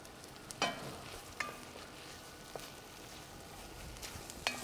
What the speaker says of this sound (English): So now we're gonna add our garlic in.